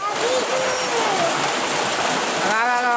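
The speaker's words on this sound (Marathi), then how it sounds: "इकडे बघा घराबाहेर आमच्या पाऊस आलेला आहे भरपूर।" Heavy rain pours outside a house, a dense continuous hiss at close range with no let-up, and a voice briefly talks over it.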